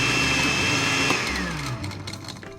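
A loud blender motor whirs continuously at close range, its pitch drifting down slightly as it runs on, with no voices over it.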